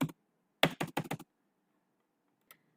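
Computer keyboard typing in a quiet room: a brief tap at the start, then a quick burst of several close keystrokes, followed by near silence and one faint click.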